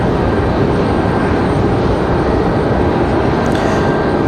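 A Delta Airbus A220-300 airliner at Raleigh-Durham airport gives a loud, steady jet roar that holds close and unbroken throughout, with no voices.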